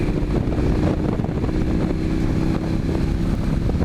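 Motorcycle engine, a KTM 1290 or Indian FTR 1200, running steadily on back roads, a constant rumble with heavy wind buffeting the microphone and no clear rise in revs.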